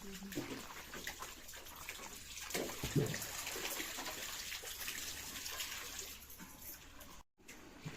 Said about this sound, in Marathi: बघा कशा दोघी दोघी पाणी काढतात